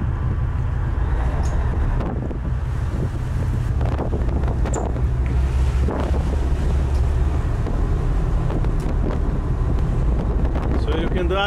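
Engines of a Bertram 630 yacht drone on the water in a loud, steady low roar, mixed with heavy wind buffeting and rushing water, continuous throughout.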